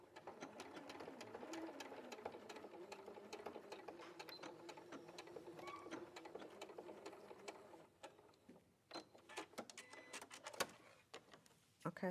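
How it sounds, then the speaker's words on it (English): A sewing machine stitches fabric in a steady, close mechanical whir for about eight seconds, then stops, leaving scattered clicks and handling knocks. "That's where I start sewing."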